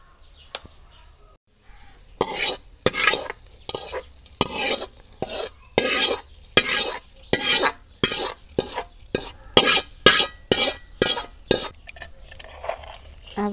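Tempering is poured into cooked pumpkin and stirred, a brief sizzle followed by a long run of rhythmic scraping strokes of a spoon against a pot, close and clear with no talk.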